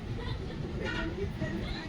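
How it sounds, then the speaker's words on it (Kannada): The Palnadu Express, a Vikarabad–Guntur passenger train, rumbles past steadily up close, with wheel and carriage clatter under nearby chatter. "ವಿಕಾರಾಬಾದ್ ಗುಂಟೂರು ಎಕ್ಸ್ಪ್ರೆಸ್. ಅದು ಪಲನಾಡು ಎಕ್ಸ್ಪ್ರೆಸ್"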